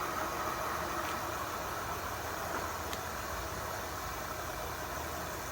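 A Zyloyty V20 Pro fat-tyre e-bike's hub motor spins the lifted rear wheel under throttle on a high setting, giving a steady, continuous whirring hum with a broad hiss that holds level throughout and has no talk over it.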